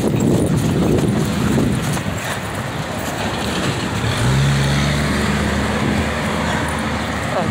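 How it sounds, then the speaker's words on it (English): Cars speed past on a street, sweeping by one after another as a continuous rushing roar with a low engine hum near the end, close and fairly loud. "Man, the cars are going fast."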